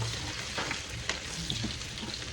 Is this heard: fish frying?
yes